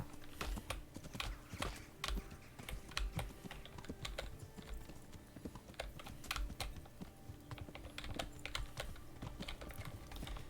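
Rhythmic clip-clop of horse hooves at a steady trot in the video game Kingdom Come: Deliverance, close and fairly even, with faint clicking and a low background hum throughout.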